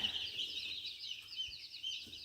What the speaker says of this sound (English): Let's see how these meat birds are doing.